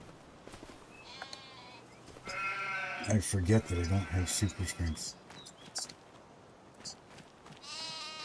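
A sheep gives loud, close bleats lasting about two seconds beside hay bales on a homestead. A person talks before and after the calls.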